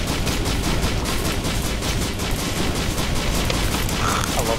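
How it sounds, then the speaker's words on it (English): Rocket launcher firing in Risk of Rain: a dense, loud, continuous barrage of rapid blasts and crackling impacts, unbroken for the whole stretch. "Rocket launcher"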